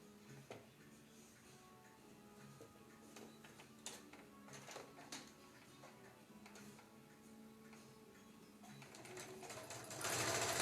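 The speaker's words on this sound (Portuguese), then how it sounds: "Agora, eu vou costurar este pra lá." Sewing machine stitching a patchwork block, a steady close mechanical rattle with rhythmic ticking that runs throughout and grows louder toward the end, with no speech.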